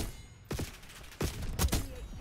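Sniper rifle shots in the shooter Call of Duty WWII, heard as three sharp, loud cracks spaced about a second apart over a steady background of game noise.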